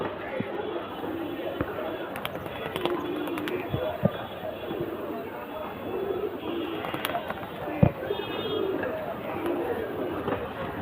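Andra pigeons in a Khidirpur loft coo softly and steadily beneath near-continuous talk, with a few sharp knocks standing out.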